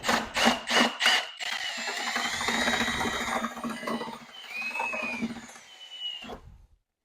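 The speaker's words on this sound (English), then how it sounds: "I prefer this kind of paddle over the other kinds. My trusty Milwaukee drill." A Milwaukee power drill with a paddle whirs and churns steadily for several seconds, mixing thick paste, with a few short bursts at the start and a fade at the end.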